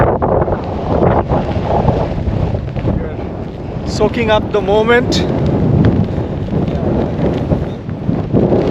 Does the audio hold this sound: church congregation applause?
no